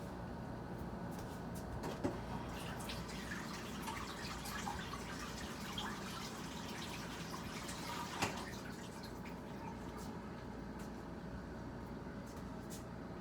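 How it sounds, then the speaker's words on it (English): Zucchini rinsed under a running kitchen tap: a steady faint hiss of flowing water with soft splashes and a couple of small knocks, no talking. "And then you might want to rinse it off."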